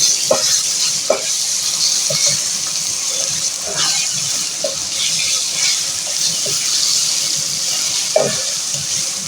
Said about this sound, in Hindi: अब मैं इसमें डाल दूंगी ये लहसुन अदरक का पेस्ट। तो इसको मैं थोड़ा सा भूनूंगी।